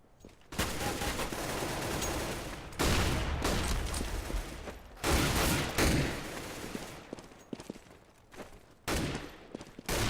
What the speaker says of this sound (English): Brought back to a 1-man differential by Glaive's headshot with the AK